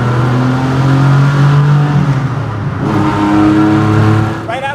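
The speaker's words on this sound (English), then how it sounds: "This is a 1970 Porsche 911 with a motor from 1987, a gearbox from the same era, and noise from heaven." A 1970 Porsche 911 fitted with a 1987 engine and period gearbox runs with a loud, close, steady engine drone that briefly dips and then rises again, ending on a short rising rev.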